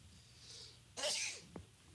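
One close sneeze bursts out against a quiet indoor background during accounting work, followed by a faint short sound after it.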